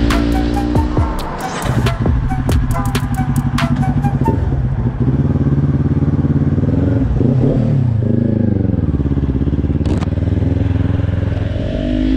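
A Kawasaki Ninja 400 motorcycle rides off, loud and close, with a clattering start, rising engine pitch through the gears and a sustained throaty drone.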